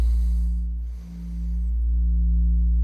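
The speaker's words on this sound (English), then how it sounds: "So that's a second frequency right near 58 hertz." Two nearly identical low sine tones near 58 Hz sound together and beat against each other, producing a steady, slow wobble in loudness that dips once and swells back, loud and continuous with no voices.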